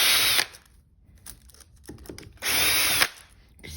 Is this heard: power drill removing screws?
yes